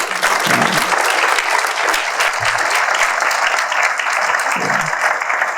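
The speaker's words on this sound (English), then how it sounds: "Thank you so much, Abdul. Round of applause." An audience at a product marketing summit in London gives a speaker a steady round of applause, loud and continuous throughout, with a few faint voices underneath.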